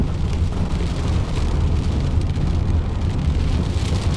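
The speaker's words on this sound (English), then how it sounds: "here's the windshield with no treatment on it as we're driving in the rain" Rain drums steadily on a car windshield while driving, a dense, even hiss with a low road rumble throughout.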